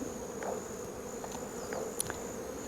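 Honey bees buzzing around a beehive on a Kauai farm, a steady soft hum of many insects with an occasional single bee passing close, faint and continuous throughout.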